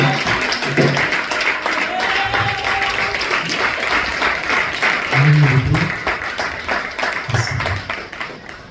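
Church congregation applauding to welcome a speaker, continuous close clapping with scattered voices calling out over it, steady in loudness for several seconds.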